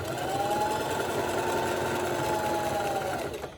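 A sewing machine stitching fabric strips held together for fringe, a steady, fast mechanical whirring drone running close and continuous before winding down at the end.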